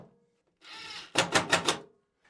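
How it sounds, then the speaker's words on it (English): Screws for an EG4 indoor battery wall-mount bracket are being driven in: a soft whirring run, then four loud, sharp, rattling bursts in quick succession, close by with no talking. "Now we're putting in the wall mount bracket screws."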